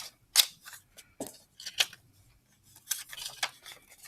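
Scissors snip through a folded paper game board in short, crisp cuts with uneven pauses between them, close up and with no talking.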